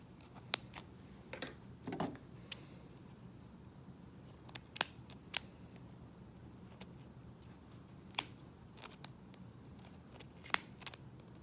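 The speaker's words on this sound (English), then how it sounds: "when I cut the other side, you'll start to see the image coming out." Scissors snipping through the yarn loops of a pom pom, a series of crisp, irregular close-up clicks and cuts spaced apart over quiet background.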